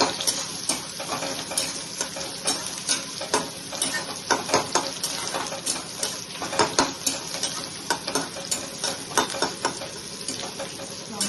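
Onions fry in oil for Bengali mutton kosha while a spoon repeatedly scrapes and stirs them around the pan, a steady sizzle broken by frequent sharp metallic scrapes and knocks, close and fairly loud.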